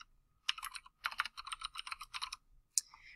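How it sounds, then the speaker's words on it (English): Quick bursts of computer keyboard typing, close and clear, with short pauses between runs of keystrokes and a final louder click at the end. "I'm going to type in my website"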